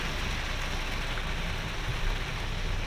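Steady, dense rain pours over a hilly road near a waterfall on the Kuttikanam–Panchalimedu route, a loud unbroken hiss with no voices.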